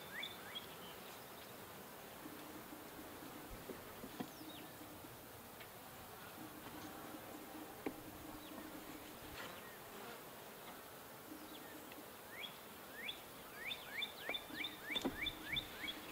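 Honey bees buzz steadily around a horizontal hive split, faint and continuous, with scattered closer buzzing passes and chirping birds calling in the background, louder toward the end.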